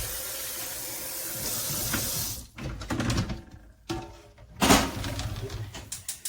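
Cold water runs hard from a kitchen tap into a sink, a steady splashing rush that breaks off and restarts in uneven bursts as the flow hits dishes and the basin.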